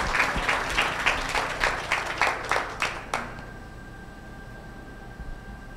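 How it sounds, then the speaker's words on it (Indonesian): Applause from guests at a bank merger ceremony, a few seconds of distinct rhythmic clapping that stops abruptly, leaving quiet hall ambience with a faint steady tone. "Boleh kita berikan tepuk tangan sebelumnya Bapak Ibu?"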